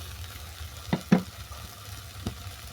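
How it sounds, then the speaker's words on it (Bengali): Bottle gourd peel frying in a pan gives a soft, steady low sizzle, broken by a few sharp clacks of a utensil near the start and one more toward the end, with no voices. "আরও 5 মিনিট ধরে ভেজে নিয়েছি।"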